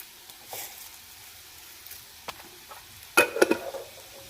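Curry leaves drop into hot oil in a home kitchen, giving brief faint sizzles, soft stirring and a couple of sharper spits and crackles near the end.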